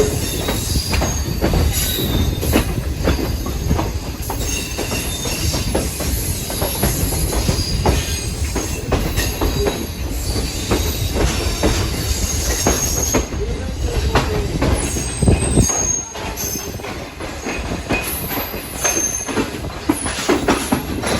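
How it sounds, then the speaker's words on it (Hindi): Shalimar Express train rolling onto the main line after leaving a platform, wheels squealing and clattering steadily underneath a loud continuous rumble, with no voices. "प्लेटफॉर्म नंबर 2 को छोड़कर अब मेन लाइन पर दाखिल हो रही है हमारी ट्रेन।"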